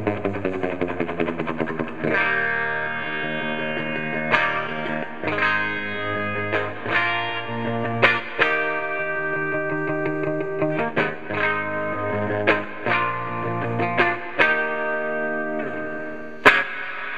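Electric guitar through an Egnater Rebel 30 amp with reverb turned up, ringing chords and picked notes washing into long reverberant tails, a series of strums and arpeggios played close and alone.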